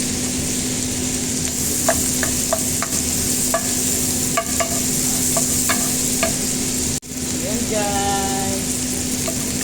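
Onion sautéing in butter in a pan, a steady even sizzle throughout with a few light utensil clicks and a faint voice briefly, and a short scraping stir near the end.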